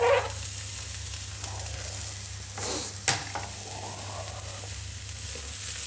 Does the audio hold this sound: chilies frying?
yes